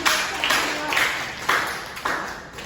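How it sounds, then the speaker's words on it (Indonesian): A microteaching class applauds, the clapping rising in bright, rhythmic surges about every half second, fairly loud and close, with a faint voice mixed in. "Tepuk tangan."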